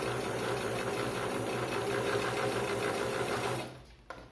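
A sewing machine runs steadily at a close distance, stitching a backstitch back and forth over the same stitches in a beginner sewing session, with a continuous whirring hum for most of the clip before stopping abruptly.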